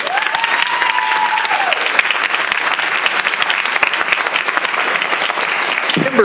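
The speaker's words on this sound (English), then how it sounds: "Give her a round of applause." Steady, loud applause from the audience at a school board meeting, dense clapping throughout, with a brief tonal sweep early on and a short sound at the end.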